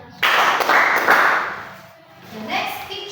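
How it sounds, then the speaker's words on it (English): A classroom of students clapping for a classmate in a nervous system lesson, a short burst of rhythmic claps close by, followed by a teacher's voice. "Let us give 3 claps for Jerry."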